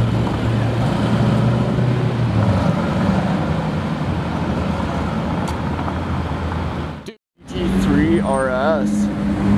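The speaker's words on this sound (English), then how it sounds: "Oh, and an Aston Martin Vantage." An Aston Martin Vantage supercar, part of a supercar convoy on Toronto streets, brings a steady, loud engine and road roar that holds for several seconds. It drops out sharply, then returns under a short burst of talking.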